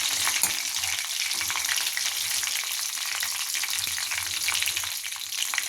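Mustard seeds spluttering and crackling in hot oil for a potato curry, a dense, continuous sizzle with rapid popping close to the pan, steady throughout.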